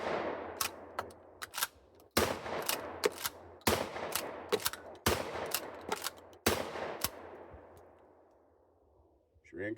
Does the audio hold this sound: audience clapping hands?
no